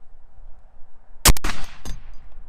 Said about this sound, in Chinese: 接下来给巴雷特 M107-1装上这个又黑又粗的消音器。